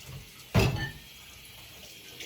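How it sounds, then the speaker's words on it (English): Hands washed under a running kitchen tap, a short burst of splashing water near the mic, then quiet. "Let me wash my hands"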